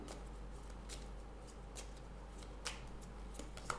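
Tarot cards being shuffled by hand in quick, faint riffling bursts repeated several times, close but quiet against a low background hum.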